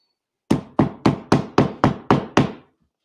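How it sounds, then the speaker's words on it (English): A hammer bangs on a wooden trunk being upholstered, eight sharp, evenly spaced blows close by, each ringing briefly before the next, with no talk. "This keeps falling every time you bang it with the hammer and it gets smeared."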